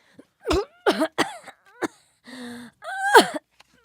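Several rough, wet coughs in quick succession, close and loud, followed by a groaning, wheezy exhale and a final hacking cough.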